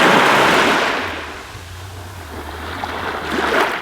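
Surf at Varadero beach in Cuba washes in with a broad roar, eases into a quieter stretch, then swells again as the next wave breaks, along with a low rumble.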